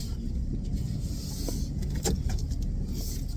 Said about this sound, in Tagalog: Iusog ko lang konti yung sasakyan ko.